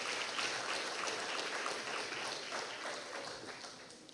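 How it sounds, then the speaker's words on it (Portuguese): A church congregation claps together in a sustained, fairly distant round of applause that holds steady and then gradually softens toward the end. "Você pode dar um aplauso ao Senhor?"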